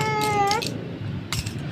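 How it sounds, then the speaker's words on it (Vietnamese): A cat gives one clear, rising meow up close, followed by a shorter second call, with faint background noise. "Con mèo kêu sao?"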